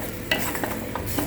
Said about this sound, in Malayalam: നമുക്ക് കുറച്ച് നാളികേരം വറുത്തിട്ട് അരയ്ക്കണം സാമ്പാറിൽ ചേർക്കാനായിട്ട്.